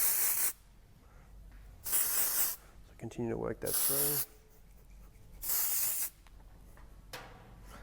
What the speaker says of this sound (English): Once I've given it a real good spray